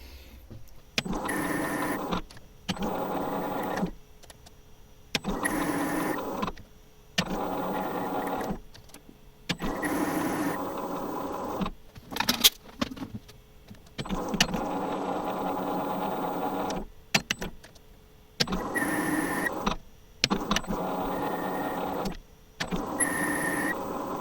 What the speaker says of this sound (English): I'm going to be using this homemade reverse internal threading tool.